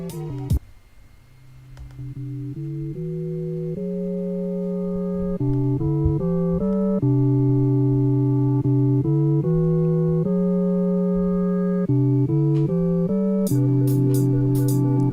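Instrumental hip hop beat playing at a live freestyle improv show in Hackney, London: loud, steady sustained tones stepping through a repeating melodic pattern, with no voices over it.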